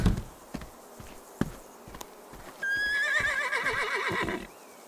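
A horse whinnies loudly in the second half, a long wavering neigh that falls in pitch, after a few soft hoof clops and rustles in a cold outdoor setting.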